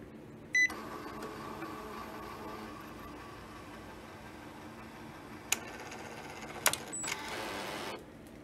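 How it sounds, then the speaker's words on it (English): An Epson XP860 inkjet printer restarts with a short electronic beep and then a low steady mechanical hum, broken by a couple of sharp clicks and one more brief tone near the end, with no talk. "So here we are at the printer and we're going to restart."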